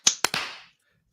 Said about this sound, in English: So I'll get everyone to clap in